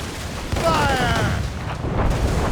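Ship cannon fire in Assassin's Creed Rogue during a naval battle: heavy booming shots and rumbling blasts mixed with battle noise and shouted voices.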